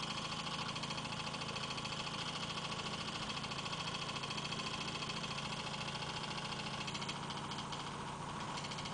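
Generator engine running near 900 RPM, a steady close drone with rhythmic vibration throughout and no voices.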